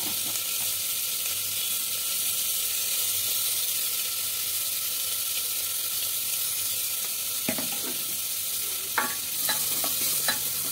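Papaya, carrot and green chilli fry in a pan for chicken soup, giving a steady close sizzle and hiss throughout, with a few sharper spatters and utensil scrapes near the end.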